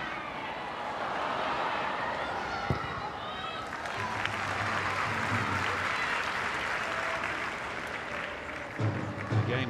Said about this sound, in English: another big crowd here today at the Academy Stadium